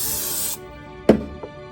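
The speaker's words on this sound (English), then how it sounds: "I'm going to spray it liberally with non-stick cooking spray" Non-stick cooking spray hisses from an aerosol can onto a waffle maker for cinnamon waffles: one steady, fairly loud spray burst of about half a second, followed by a couple of soft clunks.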